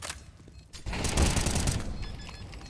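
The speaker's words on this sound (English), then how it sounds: "Nice headshot with the A1S again." A quick burst of A1S rifle fire in a competitive shooter match at a tournament semi-final, a rapid crackling volley lasting about a second that fades into the game's background noise.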